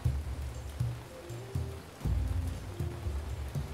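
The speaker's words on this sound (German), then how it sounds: "Es regnet schon wieder." Steady rain patters and hisses in the video game Ancient Cities, a dense wash of drops with low bumps and thuds underneath, loud and continuous with no voices.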